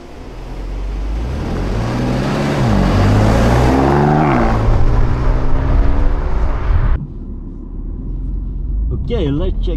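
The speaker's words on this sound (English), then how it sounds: "the BMW M2 CS from Hans, owner of Petrolhead, as he drives the first kilometers on track with the BMW M2 CS" A BMW M2 CS on a race track revs hard, its engine note climbing through gears in a loud, rising roar that cuts off abruptly near the end, with someone talking over parts of it.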